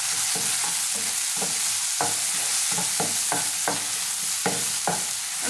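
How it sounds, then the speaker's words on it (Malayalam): A large sliced onion is stirred in a frying pan: repeated rhythmic scraping strokes over a close, steady sizzle. "നന്നായിട്ട് നമുക്കൊന്ന് ഇളക്കി കൊടുക്കാം"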